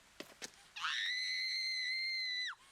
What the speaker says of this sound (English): she's like just screaming